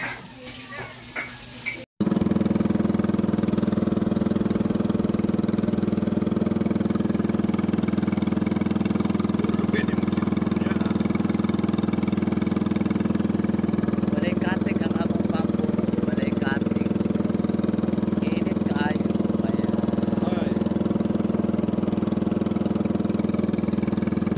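A motor boat without outriggers drones steadily after a brief start, its engine a loud, even low hum with a strong throbbing tone throughout, while faint voices and small clatters come and go over it.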